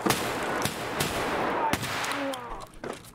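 Rapid gunfire in a shooter video game: several sharp, loud cracks spaced irregularly across a few seconds over a noisy battle bed, with fainter distant shots between them.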